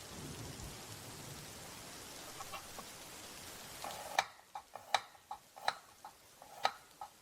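Steady rain wash fills the first four seconds, then gives way to sharp, irregular crackles and sizzles like food frying in a pan, loud and close with no talking.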